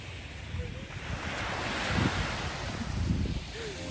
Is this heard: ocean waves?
yes